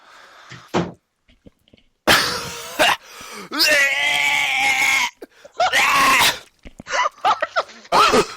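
Loud, sudden bursts of a person screaming in a home podcast recording, mixed with knocks and coughing sounds; harsh, close and alternating with short silences.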